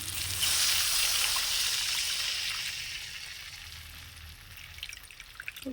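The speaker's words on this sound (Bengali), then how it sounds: "মশলাটা আমার কষানো হয়ে গেছে। তো ওর মধ্যে জল দিয়ে দেবো" Water poured into sizzling fried spice paste for a Bengali egg curry: a loud hissing rush that swells at the start, then settles into a quieter steady simmer with small pops near the end.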